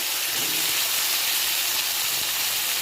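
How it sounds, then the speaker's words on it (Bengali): Potatoes fry in a kadai with panch phoron and green chillies, giving a loud, continuous, close hiss and sizzle that stays even throughout with no voices. "কড়াইতে পাঁচফোড়ন ও কাঁচা লঙ্কা দিয়ে আলুগুলিও ছেড়ে দেবো।"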